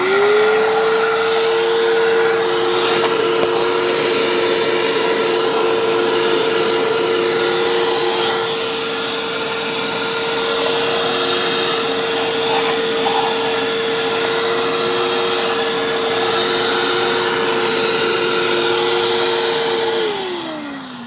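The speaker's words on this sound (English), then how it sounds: "I'm going to use a shop vac and try to get that up" A shop vac runs steadily and loudly while sand is vacuumed off a concrete pool deck, its motor holding one constant whining pitch for about twenty seconds before spinning down at the end.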